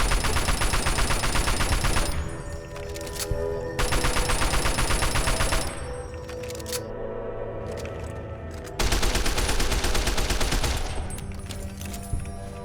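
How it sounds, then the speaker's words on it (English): Heavy gunfire in Fallout 3 played on very hard difficulty with the Tale of Two Wastelands mod, loud bursts of rapid automatic shots in several volleys with brief lulls between. "Actually, I'm just gonna shoot him."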